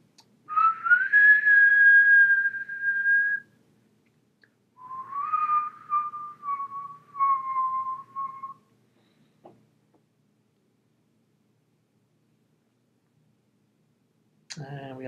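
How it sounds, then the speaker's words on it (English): A man whistles a few sustained tones close up, one long high note then two lower, wavering phrases with short gaps, followed by a quiet click and a brief burst of noise near the end. "So I'll whistle,"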